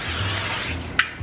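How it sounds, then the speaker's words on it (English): Cooking spray hisses onto a baking sheet in a home kitchen, a steady close airy spray lasting about a second, ending with a small clatter. "I'm going to spray a baking sheet here."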